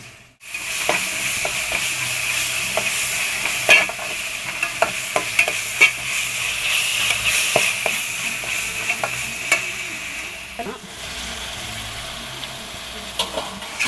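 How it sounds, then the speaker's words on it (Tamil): Ginger garlic paste with onion, tomato and chili sautés in a pan for a fish curry, a steady close sizzle punctuated by repeated scraping clicks of a stirring spoon, with no one speaking. "நல்லா வதக்கிக்கலாம்."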